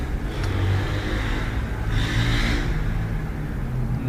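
A car passes by outside, a steady engine rumble and whir swelling as it goes past around the middle and easing off again, heard alone with no talk.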